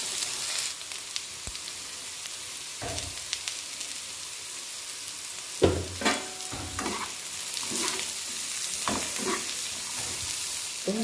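Carrots roasting in a pan for a Kerala-style Onam dish, stirred with scrapes and clacks of a spoon over a steady soft sizzle, with a few sharper knocks against the pan and no talk.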